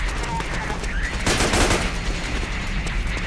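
Sniper rifle fire in a video game cracks out as a brief, loud burst of shots over a busy background.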